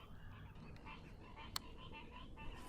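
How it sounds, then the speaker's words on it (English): Frogs croaking steadily in a dense outdoor chorus, fairly faint and continuous, with one sharp brief click partway through. "And the frogs are singing."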